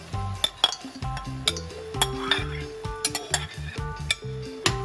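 Codfish is stirred into cooked tomatoes in a pot for ackee and saltfish, with a quick run of spoon knocks and clanks against the pot over a faint simmer, while music plays in the background.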